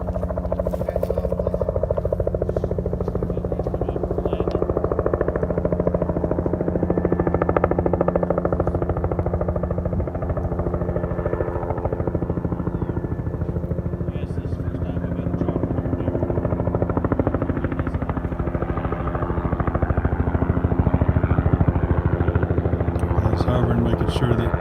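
A medical helicopter approaching to land during a flight operations class, its rotor a loud, steady, low thudding drone that holds throughout, while people talk over it.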